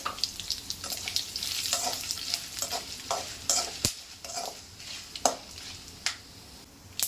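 Dried red chillies sizzle steadily in hot oil with scattered pops and crackles, close and continuous, with occasional stirring scrapes and no talking.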